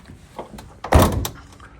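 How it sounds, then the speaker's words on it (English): One heavy door bangs shut on a converted police van, a single loud close thud with a brief rattle after. "I'll just bang this door shut"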